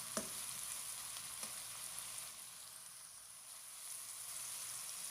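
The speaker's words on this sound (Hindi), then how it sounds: "इसके अंदर 1 अदद बारीक कटा हुआ टमाटर ऐड कर देंगे और टमाटर को भी फ्राई करेंगे" Finely chopped tomato fries in a pan with a steady, faint, even sizzle and a few light taps early on, with no talking.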